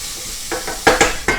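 Onions pre-cooking in a pan for shrimp pasta primavera are stirred with a stirring rod, giving a few quick, close scraping swishes over a light sizzle.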